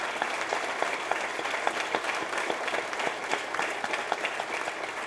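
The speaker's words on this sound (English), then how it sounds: "I would just like a little a round of applause for everyone today" An audience gives a round of applause at a groundbreaking event, continuous moderate clapping with individual claps popping out now and then, heard from a little distance and unbroken throughout.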